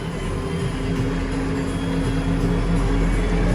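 A Sonalika tractor engine drones steadily as the machine drives into a water-filled pit, a loud, close, continuous low rumble with no breaks and no voices.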